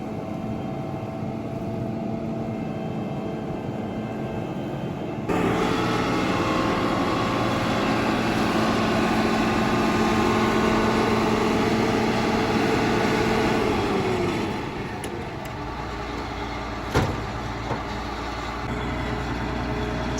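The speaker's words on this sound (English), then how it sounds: "we're gonna try to dump straight from the harvester into his little trailer" A corn harvester unloads corn straight into a small trailer, a loud continuous machine roar with a grain-pouring rush that swells midway and then eases, plus a brief knock near the end.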